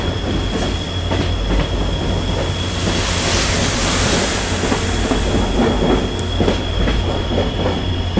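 A passenger train on the Madgaon to Bengaluru special route: a steady, close rumble of the carriages with rhythmic wheel clicks, bursts of wheel squeal and hissing, and no talk.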